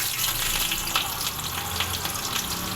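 Onion petals fry in hot oil in a wok, a loud dense crackling sizzle that fills the whole stretch without pause or voices.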